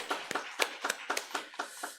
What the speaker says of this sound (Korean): 우리 박수로 한 번 더 격려하겠습니다